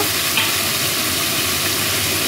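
Potatoes and okra frying together in a little hot oil in a wok, giving a steady, close, even sizzle with no talk over it.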